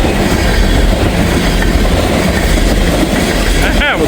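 The locomotives of a freight train carrying steel beams roar past up close in a loud, continuous rumble of engines and rolling wheels, with a brief high wheel squeal near the end.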